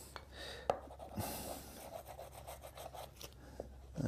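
Glued wooden blocks rubbed hard into the corners of a woodworking joint, a quiet, close scraping and rasping of wood on wood with a few sharp knocks.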